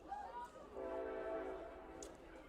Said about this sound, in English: Hear the train whistle in the background.